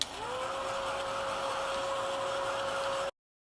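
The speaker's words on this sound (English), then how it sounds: "I'm going to just hit this with the dryer." A craft heat dryer blows with a steady whirring drone and airy hiss for about three seconds, then cuts off abruptly.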